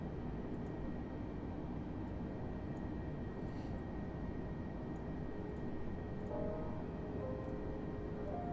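A32NX airliner departing in Microsoft Flight Simulator, a steady broadband engine roar that holds at a constant loud level throughout with a faint tonal whine rising near the end.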